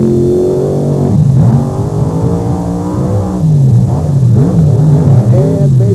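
Monster trucks, the Wildfire Chevrolet against the Monster Patrol, race down a beach track at the 1995 Thunder on the Beach in Wildwood, New Jersey. Engines roar loud and steady throughout, their revving pitch rising and falling in repeated sweeps.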